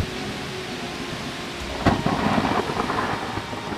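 A thunderstorm rumbles with a sharp crack of thunder followed by a rolling low boom, while steady rain hisses throughout.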